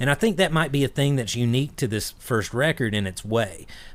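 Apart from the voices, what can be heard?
No distinct noise like a dog, phone or traffic.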